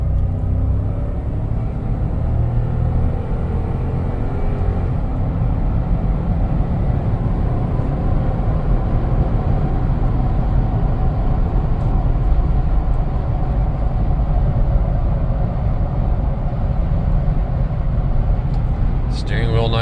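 Interior road noise from an eleven-year-old Lexus LX570 on the move, a steady low drivetrain rumble and tyre-and-bearing drone that holds constant and loud throughout with no talk.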